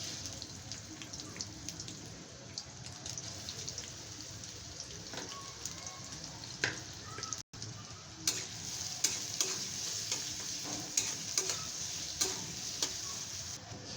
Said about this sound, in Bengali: দিয়ে দিচ্ছি কুচি করা পেঁয়াজ।